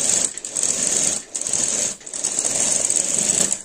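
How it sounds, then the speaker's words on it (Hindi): Sewing machine stitching a blouse armhole seam, a steady close mechanical whir with two brief pauses before running on, no voices. "आर्म होल की सिलाई को दोनों को बराबर मिलाना है इस तरीके से और बराबर मिलाकर इस पर सिलाई को आपको चलाना है"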